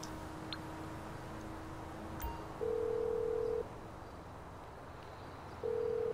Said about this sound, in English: Nobody has time for your constant phone calls.